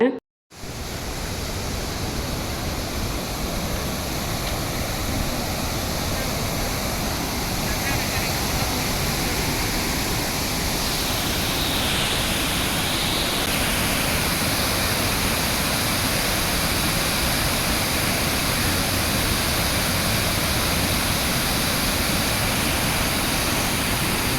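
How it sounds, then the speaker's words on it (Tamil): A loud, steady roar of water rushing from the outlets of Mettur Dam, broadband and unbroken, continuing for the whole stretch without pauses. "அந்த தண்ணி சவுண்டு பார்த்திங்கன்னா கேட்குறதுக்கு ரொம்ப பிடிக்கும்"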